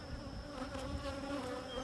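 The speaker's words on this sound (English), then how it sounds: "hearing all the bees" Honeybees buzz steadily around hives being tended, a dense, continuous drone close by with no talk over it.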